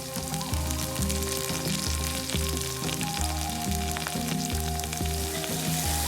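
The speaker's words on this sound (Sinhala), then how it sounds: "අබ ටිකකුයි තලාගත්ත සුදු ලුණු ඉඟුරුත් දාලා චුට්ටක් තෙලෙන් බැදෙන්න දෙන්න" Mustard seeds, garlic, ginger, onions and curry leaves fry in hot oil for a lake fish curry, a steady close sizzle and crackle throughout, loud and unbroken, with no talking.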